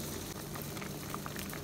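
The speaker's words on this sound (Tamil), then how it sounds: "தண்ணி இப்படி கொதிக்கும் போது அந்த அகா அகாவை எடுத்து உளுக்கு போட்டுருங்க" Water boils in a pot on the stove before agar-agar is added, a soft continuous bubbling and hissing, close but fairly quiet.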